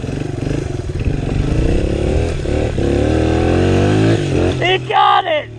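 A small Honda XR dirt bike engine revving hard and steady as it wheelies up a hill just after an oil change, loud and close, rising in pitch near the end while a rider talks over it.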